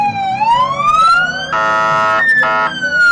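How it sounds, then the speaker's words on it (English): St. Joseph's Hospital ambulance siren passing in a small-town anniversary parade, loud and close, a rising wail switching to a rapid yelp pattern with horn-like bursts. "As St. Joseph's Hospital comes on by in their ambulance"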